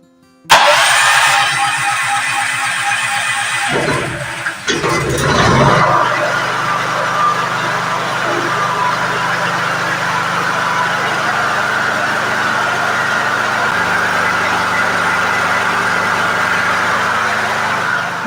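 A Honda petrol generator is pulled into life: a brief cranking burst, then the engine catches and settles into a loud, steady running drone that carries on close by.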